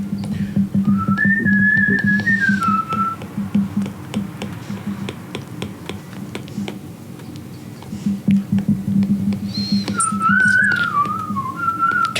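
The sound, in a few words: person whistling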